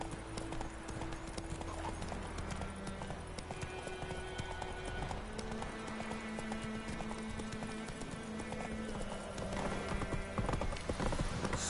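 Hooves of a galloping horse in the video game Witcher 3, a continuous rapid clip-clop rhythm with an occasional whinny, set over game music and ambient sound at moderate volume.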